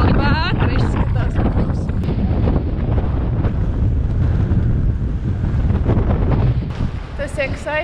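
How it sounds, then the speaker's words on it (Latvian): Strong wind buffets the microphone at a cruise ship boarding point in Greece, a steady loud rumble running through the whole stretch with people talking over it. "Kāds vējš!"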